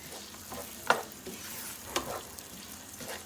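Chopped onions frying for green chilli chicken, a soft steady sizzle in the pan with two distinct stirring clinks of a utensil against the pan.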